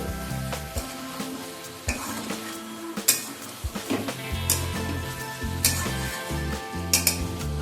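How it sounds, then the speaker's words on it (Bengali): A spatula stirs chicken kosha with garam masala and fresh coriander leaves in a sizzling pan, giving irregular metallic clinks and scrapes over a steady fry, with soft tonal background sound underneath. "এবার সমস্ত কিছু একবার মিশিয়ে নিচ্ছি"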